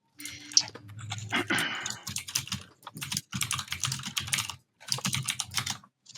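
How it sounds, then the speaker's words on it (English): Fast, furious clattering on a computer keyboard, close and dense bursts of key strikes broken by brief pauses, with no voices. "Furiously typing."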